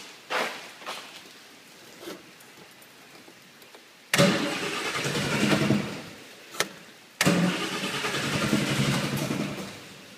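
A car engine fitted with rebuilt Stromberg carburetors cranks and fires up twice, each start catching suddenly into a steady mid-pitched running note that holds for a few seconds after a brief quiet, idle-like lull.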